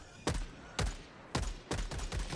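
Sharp, heavy gunshots in Helldivers 2 fired against Automatons, about five loud blasts in an uneven rhythm over two seconds, each with a short tail, close and dominant with no speech.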